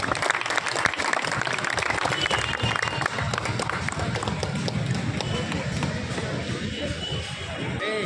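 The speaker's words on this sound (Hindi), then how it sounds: "तालियों से आप सबका स्वागत।" An audience at a public inspirational talk in Bihar applauds in welcome, a loud, dense, continuous clapping that runs the full length with crowd noise mixed in and no clear pause.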